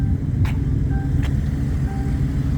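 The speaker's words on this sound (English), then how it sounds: "You got a car coming." A car on the road rolls by nearby with a steady low rumble of tyres and engine, joined by a couple of brief higher squeaks and clicks.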